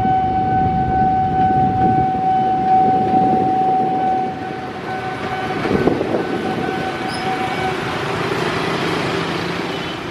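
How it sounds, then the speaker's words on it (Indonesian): A passenger train rumbles into Jakarta Pasar Senen station, a loud, steady low roar with a sustained horn-like whistle tone on top, heard close with no talking. "Dari selatan ada kereta api masuk jalur 3 Stasiun Pasar Senen"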